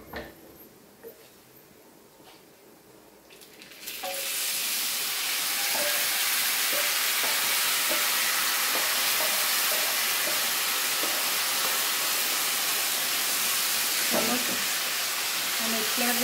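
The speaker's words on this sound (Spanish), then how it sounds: "ahora es momento de agregarle nuestra salsa" Tomato salsa is poured onto golden fried tortilla chips in a pan for chilaquiles. After a few quiet seconds a sudden loud, steady sizzling hiss erupts and carries on strongly to the end.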